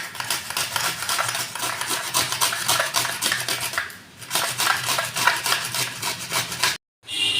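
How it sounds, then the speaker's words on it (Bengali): Raw mango rubbed against a metal grater, a fast rhythmic rasping scrape repeating steadily and close, with one brief pause midway and a short silence near the end. "আমি এবার আমটা গ্রেট করে নেব।"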